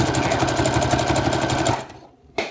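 A sewing machine runs steadily and rapidly, stitching hair tracks onto a wig cap with a fast, even mechanical chatter close by, then stops abruptly, followed by a short click.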